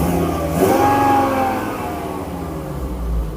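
A Volvo V70 T5 estate's engine revs up from idle and then settles back, the pitch climbing and falling as the revs hang briefly, heard loud and close with a deep rumble underneath.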